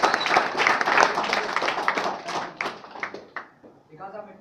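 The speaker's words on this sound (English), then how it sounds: "he deserves a huge round of applause because he's talking very well" An audience claps in a dense burst of applause that thins out into scattered claps over several seconds, with some voices mixed in.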